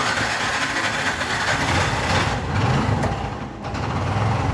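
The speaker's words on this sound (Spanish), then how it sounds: "Vamos a prender la moto." A small motorcycle-based cargo tricycle engine, which starts but won't drive, runs loudly and roughly in a continuous drone, close by, with a brief dip in the middle before it steadies again.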